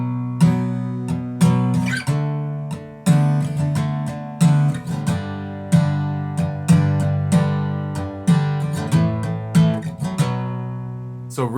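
Acoustic guitar strums a song's pattern slowly, with evenly spaced, crisp down and up strokes ringing out in a loud, close, steady groove, with no talking.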